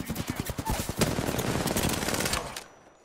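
Rapid automatic gunfire from the Crypto character in a video game, a dense burst of close, loud shots that runs for a couple of seconds before cutting off into quiet.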